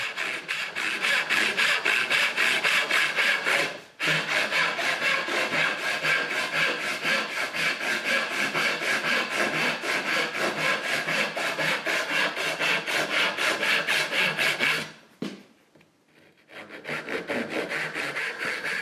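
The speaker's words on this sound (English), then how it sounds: "Andrew, as you're sawing the tails" A handsaw cuts dovetail tails in wood with quick, steady rasping back-and-forth strokes, close and loud, broken by brief pauses near four and fifteen seconds before the sawing starts again.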